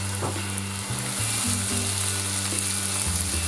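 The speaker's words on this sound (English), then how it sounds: "we put in 2 tablespoons of ginger and garlic. And we're just going to roast another 2-3 minutes." Ginger and garlic roasting in a hot pan, a loud dense sizzle close up, with a steady low hum underneath and no one talking.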